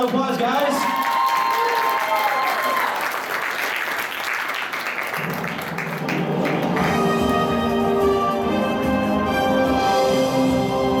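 An audience at an anime convention game show applauds, a loud crowd clapping and cheering that swells and then fades. Music and a voice rise beneath it as the applause dies down.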